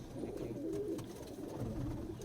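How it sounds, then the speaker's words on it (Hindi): Domestic high-flying pigeons in a city home loft coo in low, throaty murmurs, several overlapping rolls close by, soft and continuous with light rustling. "ये देखिए, ये मुकेश भैया का कबूतर है"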